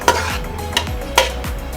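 A utensil stirs laab soup in a bowl, giving three quick scraping clinks at an even pace over a steady low background hum, with no voices.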